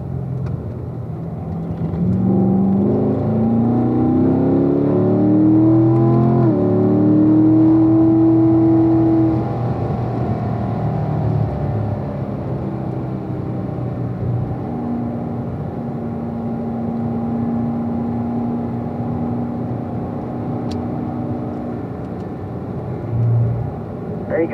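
Race car engine accelerating on a track, recorded from the cabin as a loud, close drone that climbs steadily in pitch through the gears, then settles into a steadier hum, with a driving instructor talking over it.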